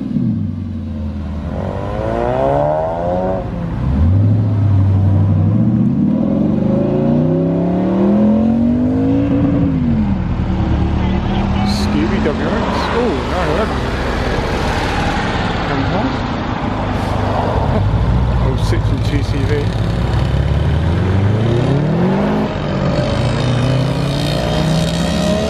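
An Audi R8 Mk1 with a V10 engine drives past at a Christmas breakfast car meet at a motor museum, its pitch rising and falling through several revs over continuous traffic and crowd noise, with people talking nearby.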